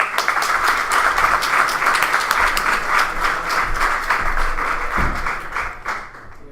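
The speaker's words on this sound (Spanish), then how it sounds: "Un aplauso para Santiago." A classroom of students applauds a classmate during a web programming lesson, a close, lively burst of clapping from a small group with a thump partway through, fading toward the end.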